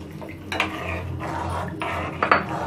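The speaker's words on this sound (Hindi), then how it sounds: "इसे चलाते जाएंगे इस तरह से" A ladle scrapes and clanks against a metal pot while besan batter is stirred into boiling gravy, with several loud bursts of metal contact between softer swirling strokes and no talk.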